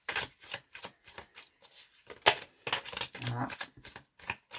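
Oracle cards are shuffled by hand in a run of quick riffling, slapping bursts with brief pauses between them, close and fairly crisp, with a single short spoken word partway through.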